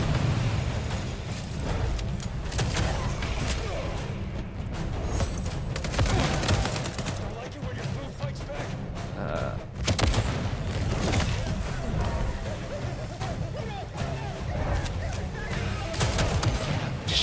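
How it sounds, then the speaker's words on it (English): Grenade explosions and rapid gunfire fill a video game firefight, with dense, continuous booms and shots at steady volume throughout. "Just grenades."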